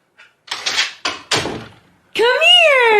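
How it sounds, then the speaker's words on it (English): A door is slammed shut with a couple of heavy, close thuds, then a voice speaks right after. "Go shut the door."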